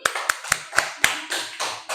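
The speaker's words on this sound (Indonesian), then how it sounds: "tepuk tangan dulu" Hands clap in a primary school classroom during a fractions lesson: about five sharp, close claps in an uneven rhythm, followed by softer, blurred clapping.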